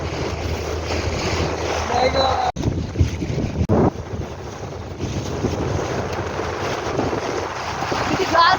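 A boat moves across water in steady wind, with continuous broadband rushing, wind buffeting the microphone and splashing, broken by two brief dropouts; people talk at moments in between.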